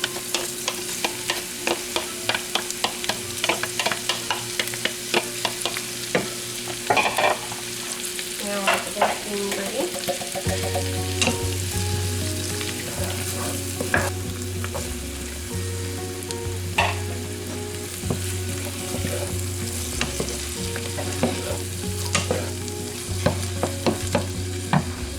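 Corn stirred into a sizzling pan for a southwest BBQ chicken casserole, a steady bright frying hiss with repeated scraping and clicking of the spoon, close up and continuous with no voices.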